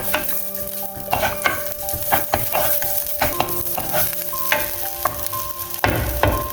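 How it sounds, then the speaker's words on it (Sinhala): Crushed garlic fries in hot oil in a pan, a steady close sizzle broken by clinks and scrapes of a utensil stirring. "ඊට පස්සේ මේ විදියට හොඳට තෙල් ටික රත් වෙනකොට ඒකට මම හොඳට තලාගත්ත සුදු ලුණු වික් දෙක තුනක් එකතු කර ගන්නවා"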